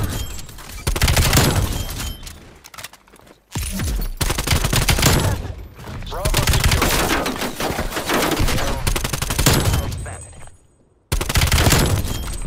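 Sustained bursts of AK-74u automatic fire in the first-person shooter Call of Duty: Black Ops Cold War, loud and close, rattling in long strings broken by a few brief pauses, with faint talk alongside.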